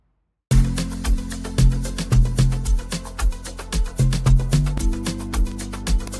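Mastered beat made in FL Studio, starting after a short silence, with punchy kicks, deep bass notes and crisp rapid hi-hats in a steady groove, loud and full throughout.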